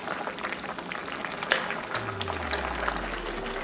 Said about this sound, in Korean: 캔꽁치 1개 준비해서 국물까지 모두 넣고 골고루 섞어주고 끓어오르면 10분 더 졸여주고